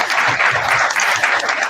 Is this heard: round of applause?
yes